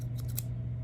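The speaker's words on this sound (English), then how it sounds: "So I have my Cricut scissors, Cricut tweezers." Cricut scissors snip and click a few times in quick succession at close range over a steady low hum.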